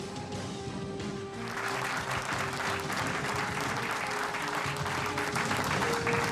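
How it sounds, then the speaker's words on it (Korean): Spectators at a 2015 army live-fire combined exercise applaud a mechanized unit; a steady hum runs underneath, then dense clapping from a large outdoor crowd swells in after about a second and holds to the end. "세계 최강의 육군 기계화 부대에게 힘찬 격려의 박수를 부탁드립니다"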